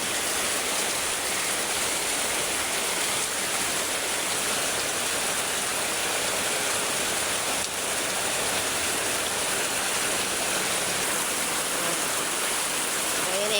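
Floodwater rushes past in a steady, dense roar with no breaks, sounding close and fairly loud throughout.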